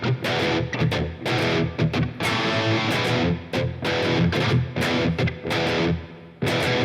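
Distorted electric guitar plays a riff, loud and close, with choppy palm-muted hits and short gaps cutting through the driven chords, no talking.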